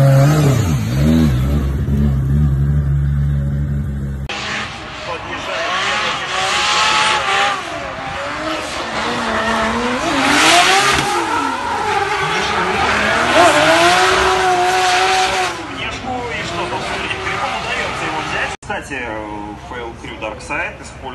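Drift cars in RDS GP qualification: loud high-revving engines rise and fall in pitch, with long tire squeal and skidding, close and continuous, while voices talk underneath.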